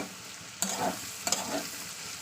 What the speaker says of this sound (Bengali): দিয়ে দিচ্ছি ক্যাপসিকাম টমেটো